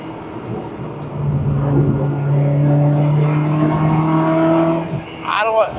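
A 2004 Ferrari 360 Spider engine with F1 transmission holds a steady, loud drone that climbs in pitch, with a burst of higher revving near the end; a voice speaks briefly over it.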